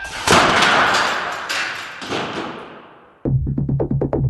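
An air cannon fires a 15-pound 2x4 board into a wall: a loud blast with a long roaring rush of air, then a sharp impact followed by a quick series of rattling knocks.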